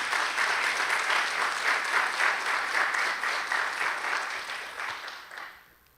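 A church congregation claps in sustained, dense applause, loud and steady for several seconds before fading out toward the end, with no voices over it.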